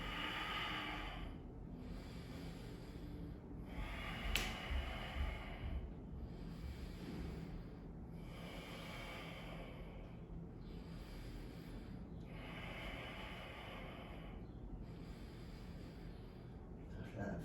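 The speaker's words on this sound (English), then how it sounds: "Finding 5 breaths." Slow, deep breaths drawn in and out during a yoga headstand in a vinyasa session, about five long cycles of soft airy inhales and exhales, close and steady, with no talking.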